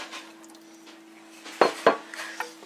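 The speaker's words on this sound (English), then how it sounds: "give this all a good stir." A spoon stirs chicken, rice, mushrooms and water inside a pressure cooker pot, giving a few sharp metallic scrapes and clanks against the pot over a quiet steady hum.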